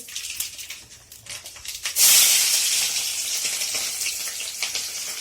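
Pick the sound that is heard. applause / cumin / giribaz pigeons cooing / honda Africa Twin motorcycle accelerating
cumin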